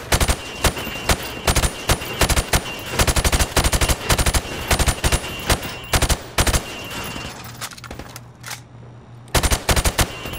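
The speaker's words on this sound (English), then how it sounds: "I want you to shoot the targets through the wood." Rifle fire at pop-up targets in a video game shooting range, with rapid bursts of sharp shots in quick succession and short gaps, loud and close throughout.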